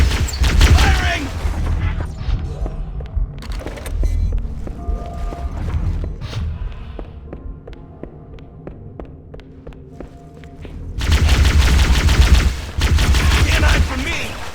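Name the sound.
gunfire in the video game Halo: Combat Evolved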